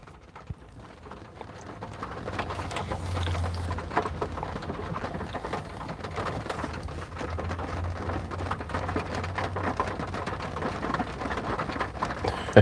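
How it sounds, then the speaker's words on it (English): Steady rain falling outdoors with low rumbles of thunder rolling in twice, around the third and eighth seconds, building from quieter patter into a dense continuous wash. "Ooh, you hear that thunder?"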